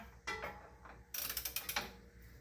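Ratchet on a 5/8 socket working the belt tensioner of a 1987-91 Ford F-150, a couple of short mechanical creaks followed by a quick run of about eight rapid, close ratcheting clicks.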